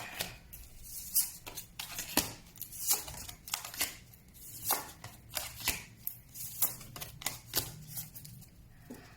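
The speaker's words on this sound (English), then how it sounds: "Done with the shuffling." Oracle cards are shuffled by hand in a steady run of crisp, rapid riffles and soft taps that repeat in quick clusters, close and fairly quiet, with no talking.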